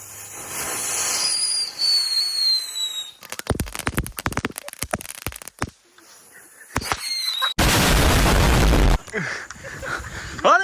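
Fireworks set off against a metal safe: whistling, hissing launches followed by a rapid string of sharp crackling bangs, then a long loud roaring hiss burst and fizzing whistles, close and loud.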